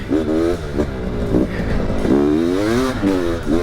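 A new 500cc two-stroke motocross bike being ridden, heard up close from the rider's helmet as a loud raspy engine that rises and falls in pitch with repeated revving and throttle changes, with no talking.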